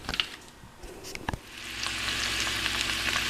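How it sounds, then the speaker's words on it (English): Brussels sprouts, bacon, garlic and olive oil fry in a skillet: a few stirring clatters at first, then a dense, steady sizzle that grows louder and holds. "Now we'll actually fix them up in the skillet with some garlic, olive oil, the bacon, and the Brussels sprouts"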